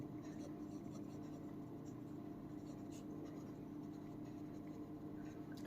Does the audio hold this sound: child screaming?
no